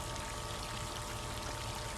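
Pool water runs into a Sandpro 75D sand filter pump, a steady, even rushing and trickling flow with no pauses or talk.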